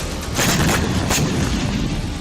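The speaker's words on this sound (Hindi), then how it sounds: "एक वाहन पर मिसाइल गिरने से तेज धमाका हुआ" A missile striking a vehicle in Doha sets off a loud, sustained blast with a broad roaring rumble that holds for about two seconds.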